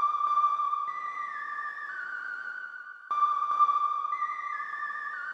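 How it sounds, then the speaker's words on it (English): Zeta 2 synth preset Crispy Arp C1 used as a chorus lead, heard as a bright sustained tone with stepping pitch changes and a clear restart midway, playing alone for over five seconds. "And you can find this preset inside of Zeta 2. It's the Crispy Arp C1"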